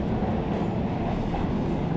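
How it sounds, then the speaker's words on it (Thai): Passenger train riding from Wongwian Yai to Mahachai in Thailand, heard from inside the carriage as a loud, continuous rumble and rattle of wheels on track with no talking. "เดี๋ยวให้ทุกคนดูบรรยากาศการนั่งรถไฟนะครับจากวงเวียนใหญ่ไปที่มหาชัยนะครับ"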